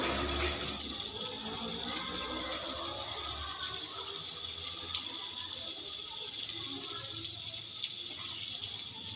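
Water runs steadily from a tap during rinsing in a washing procedure for a deceased person's body, a continuous close splashing hiss with faint voices in the background.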